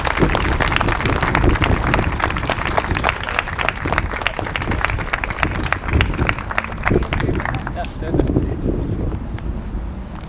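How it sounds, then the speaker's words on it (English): A dense, steady wash of audience clapping fills a youth employment awards ceremony hall, holding at an even loudness for several seconds before tapering slightly near the end. "Do we want to give him another round of applause?"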